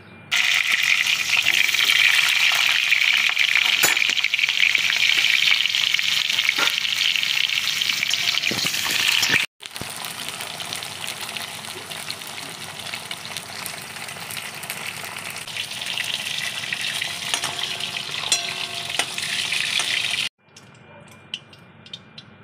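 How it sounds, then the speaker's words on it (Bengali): Pointed gourd (potol) frying in hot oil in a kadai, a loud steady sizzle that runs without a break, drops out for a moment, then carries on before fading near the end. "এবার আমি পটলগুলো ভেজে নেব কড়াইতে তেল দিয়ে দিয়েছি।"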